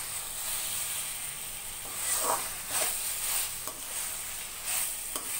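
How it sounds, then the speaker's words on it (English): Cabbage Manchurian being stirred in tomato sauce in a pan over a medium flame, with a steady sizzle and a few soft scraping strokes of the spoon, close and moderately quiet, no talking. "Mix thoroughly until it's fully coated with the tomato sauce."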